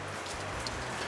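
Heavy rain falls outdoors over a BBQ in a dense, steady hiss with scattered drops hitting surfaces close by, and no one speaks.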